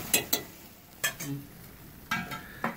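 Salmon sizzles softly in a skillet on a grill while a few sharp clicks and scrapes of a utensil ring out, close up and fairly quiet.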